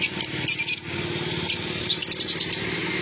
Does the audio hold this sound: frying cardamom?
no